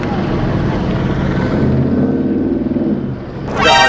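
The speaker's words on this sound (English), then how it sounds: "Oh, we got the helicopter. Yeah, they're circling us for sure." Low, steady rotor drone of a helicopter circling overhead, mixed with engine rumble and background noise throughout, with a brief louder high-pitched burst near the end.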